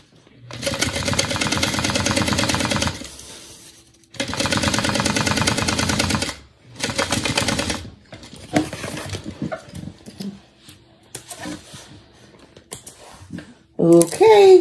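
Sewing machine stitching a Sequoia bag, running in three loud sustained bursts separated by short pauses, then quieter handling clicks and rustles as the fabric is adjusted.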